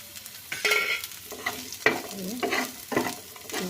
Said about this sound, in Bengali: একটা ভাজা ভাজা হয়ে আসছে, এখন আমি কিছু কালো জিরা অ্যাড করে দেব।